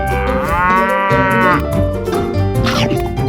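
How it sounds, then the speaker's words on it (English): A cartoon cow lets out one long, loud, drawn-out moo up close, followed by softer rumbling sounds. "Cow."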